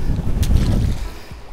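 Strong gusty wind buffeting a fishing boat out on the water, a loud low rumble of wind noise against the microphone in a brief burst.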